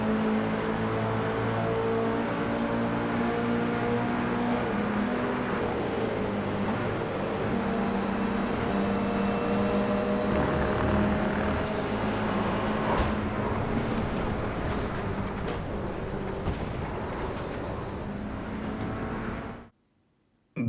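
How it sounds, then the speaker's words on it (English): Race cars run in a pack of 19 on lap 2 of an iRacing sim race, engines droning steadily up close, then scattered knocks and rattles from a crash before the sound cuts to near silence. "there was nothing I could have done to avoid this crash"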